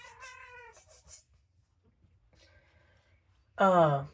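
A female cat in heat meows loudly at close range: one drawn-out cry and a short one, then a long pause, then a louder, strained yowl.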